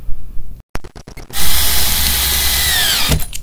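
A power drill drives a screw into drywall board on an attic chimney enclosure, with a few short clicking starts, then a sustained loud whirring run that ends abruptly, close to the microphone.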